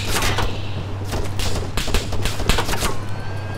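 Rapid gunfire rattles through Arma Altis Life, a dense burst of close, loud shots in quick irregular succession over a low steady hum.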